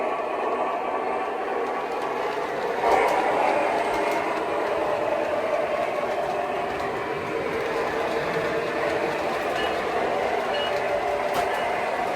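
A model switcher locomotive controlled by a DCS Remote Commander rolls along its track with a steady, fairly quiet mechanical hum and faint rail rumble, holding an even level with a slight swell near the start.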